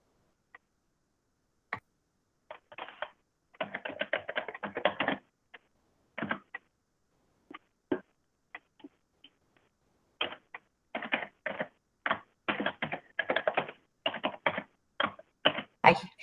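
Clicky keyboard typing in bursts of rapid keystrokes separated by pauses, close and clear against an otherwise silent background.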